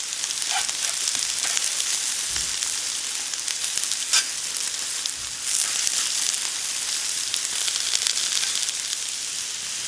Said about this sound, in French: Et au milieu, nous allons déposer nos poivrons afin qu'ils puissent saisir